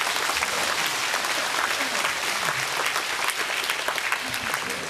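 A church congregation claps together in a sustained, fairly loud burst of applause that continues evenly for several seconds, with a voice faintly present underneath.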